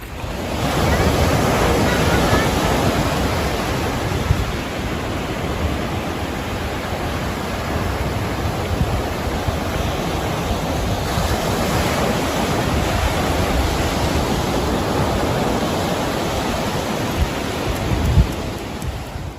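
Rushing water of the South Toe River in North Carolina, a dense, steady broadband roar that fills the whole stretch without a break, close and fairly loud.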